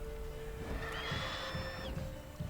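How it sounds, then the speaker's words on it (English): A horse whinnies once in the video game The Witcher 3, a rising then falling neigh heard fairly faintly against a low background hum. "Did the fucking horse just neigh?"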